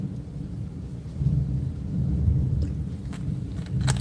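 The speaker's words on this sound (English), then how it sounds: "this storm is supposedly supposed to blow through" A thunderstorm rumbles outside, a steady low roar of distant thunder and rain that swells a few times, with faint sharp crackles near the end and no talking.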